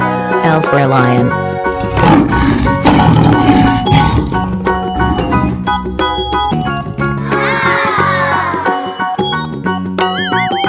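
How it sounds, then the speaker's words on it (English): A lion's roar rumbles through a bright children's learning track, loud and sustained over cheerful music with chimes and jingles. "L for lion."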